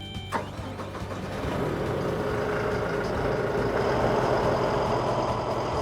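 A Deutz-Fahr 5130 TTV tractor engine turns over and catches, a brief cranking whirr followed by a steady, loud diesel idle rumble that holds close and even.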